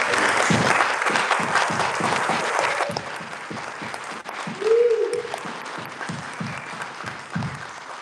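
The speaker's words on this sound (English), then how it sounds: "Let's give one more round of applause." An audience at the Awakening 2025 gathering applauds, a broad wash of clapping that stays loud at first, then softens, with a few distinct low thumps and a brief voice or whistle rising midway.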